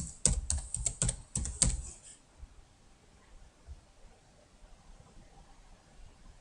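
Fingers tap quickly on a computer keyboard in a rapid burst of crisp clicks for about two seconds, then stop, leaving quiet room hiss.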